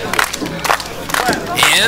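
A wrestling crowd at a live independent show cheers and shouts in loud, surging waves, with an announcer's voice cutting in briefly over the roar.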